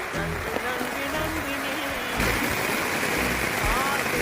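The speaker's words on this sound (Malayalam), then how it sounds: "നല്ല മഴ പെയ്യുന്നു" Heavy rain in Kerala pours down in a dense, steady roar close by, with a voice talking over the downpour throughout.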